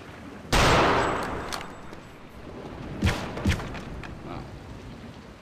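Gunfire in the video game Return to Castle Wolfenstein: a loud sudden blast that rings and decays over a second or two, followed by two shorter, softer shots, close-up in a game setting.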